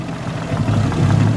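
A Nissan R33 Skyline engine, hot and being checked for timing, runs at a steady low idle with a slight rise in revs, heard close and without talk.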